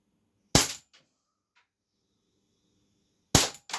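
An Umarex P08 Luger 4.5mm CO2 airgun fires two sharp, loud cracks about three seconds apart, each with a short clattering tail, with near silence between them.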